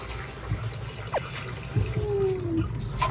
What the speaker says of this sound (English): And then we're just gonna add our warm water